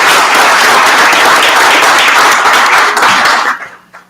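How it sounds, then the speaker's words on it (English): Audience at a township board of trustees meeting applauding loudly, dense continuous clapping from many hands that tapers off and fades out in the final half second. "You can clap again."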